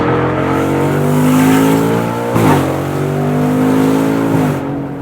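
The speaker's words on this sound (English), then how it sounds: "that exhaust is unbelievable" A BMW engine revs hard with a loud, throaty exhaust, pitch climbing and dropping between gear changes, continuous and close.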